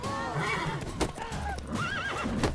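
Roach the horse in The Witcher 3 neighs and whinnies in shrill, rising cries over a busy game soundscape with hoof clatter and scuffling, a voice talking along during the fight.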